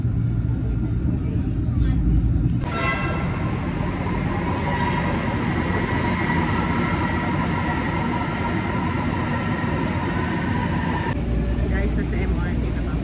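Steady loud rumble and rolling rail noise inside a moving MRT train carriage, with a high electric whine through the middle stretch; people talk over it.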